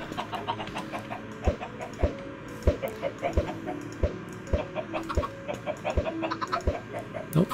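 Minecraft chickens cluck repeatedly, with clear close clucks mixed with regular sharp thumping hits over a low ambient drone.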